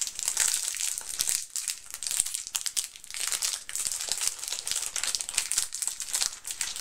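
Steady close crinkling and crumpling of packaging as a Nihon Box subscription parcel with a strap is pulled open, continuous rustling and tearing plastic or paper throughout.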